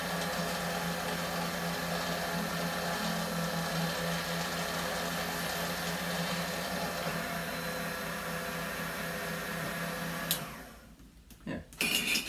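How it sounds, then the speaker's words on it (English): A pulse drill runs on jewelry for a bracelet, a steady, loud motorized whine with a low hum continuing for about ten seconds, then cutting off abruptly, leaving brief clicks and handling noise. "So now what we're going to do is we're going to pulse drill my little jewelry."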